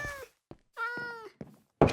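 A cat in Minecraft 1.19.2 meows a few times in short, clear calls, close and fairly quiet, with brief gaps of silence between them.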